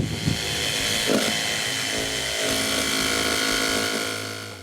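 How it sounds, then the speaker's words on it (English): A jigsaw cuts a hole through the wall of a camper van, giving a close, continuous buzzing saw drone with slight shifts in pitch as the blade works. "That's where we're gonna start from with this jigsaw."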